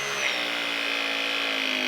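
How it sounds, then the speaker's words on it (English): A Megapress power press tool clamps down on a plumbing pipe bend, giving a short, steady motorized whine with a slowly falling pitch, close and alone. "First, we're clamping down this bend."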